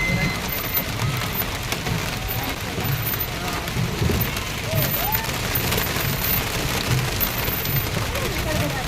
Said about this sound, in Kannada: ಮಳೆ ಜೋರಾಗಿ ಬರ್ತಾ ಉಂಟು ನೋಡಿ